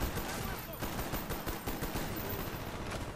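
M16 rifle fire in the video game Call of Duty Black Ops, rapid bursts of gunshots with other battle noise in a dense, loud mix.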